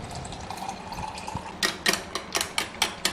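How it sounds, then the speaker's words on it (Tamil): Water poured into maida flour and stirred for a rasagulla recipe: soft trickling at first, then a run of wet splashes and clinks as it is mixed up close, without talk. "தண்ணி ஊற்றி கட்டி பிடிக்காமல் கலந்து விட்டுறணும்"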